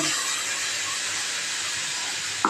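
Ground tomato, onion and green chilli paste sizzles hard in a hot pan for a side-dish kurma, a constant close hiss with a brief clatter at the very end.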